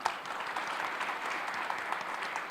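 Steady audience clapping fills a hall at the 2019 Daegu Smart City International Symposium expert panel, with dense, even applause and no distinct voices throughout.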